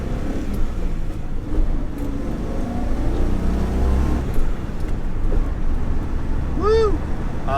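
A Datsun 280Z engine hums steadily and builds as it accelerates, with a low exhaust rumble throughout.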